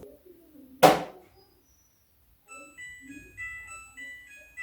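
A sharp thump, then a short electronic chime melody of bright beeping tones plays from a Ramtons washing machine signaling the end of its cycle.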